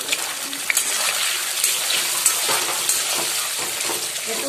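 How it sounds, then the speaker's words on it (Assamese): Paneer fries in a pan, giving a steady, close crackling sizzle with small spits and pops throughout and no voices. "পনীৰখিনি আগতে অলপমান ফ্ৰাই কৰি লম"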